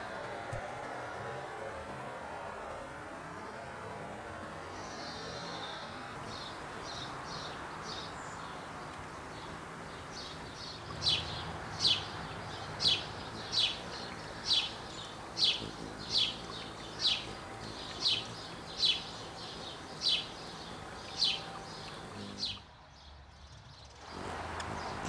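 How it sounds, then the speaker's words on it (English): A faint bird twittering begins, then a steady series of about a dozen high, thin hummingbird chirps repeats at a regular pace over quiet background hiss. "Did you hear that little chirp? That's the sound that a hummingbird makes."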